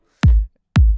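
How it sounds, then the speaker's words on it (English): Two separate hits of a warm, long Splice kick drum sample for garage house, each a deep booming thump with a clicky attack that sustains for about a quarter second, loud and alone with a short gap between. "Basically the kick just sounds like this."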